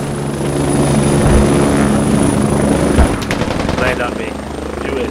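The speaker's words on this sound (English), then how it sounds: "Did you guys notice that the helicopter out front?" A helicopter in the military shooter Squad drones with a constant rotor roar, loud and near, while players talk over it and a couple of sharp impacts cut through.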